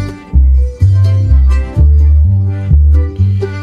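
AI-generated country song instrumental with strummed banjo and a fiddle over a loud, steady bass pulse, with repeated rhythmic accents and no vocals.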